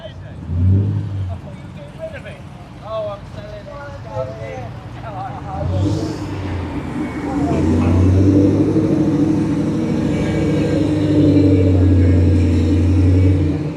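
A Holden Monaro V8 rumbles with a deep, lumpy idle and rising revs at an Australia Day car meet at the Ace Cafe in London, while people talk over it early on.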